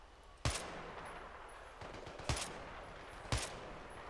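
Gunfire in the Battlefield 3 video game: three sharp, loud shots crack out at uneven intervals over a steady background rumble of battle, with no talking.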